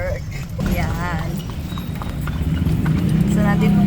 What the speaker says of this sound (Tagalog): Kabayo, kabayo, kabayo!